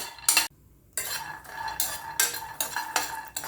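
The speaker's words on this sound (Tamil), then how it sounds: "இதையும் அதே பேனில் போட்டு ஃப்ரை பண்ணிக்கலாம் இதையும் நல்லா ஃப்ரை பண்ணி எடுத்துக்குவோம்" A utensil stirs peanuts frying in a pan, making close, irregular scraping and clinking strokes with short pauses between them.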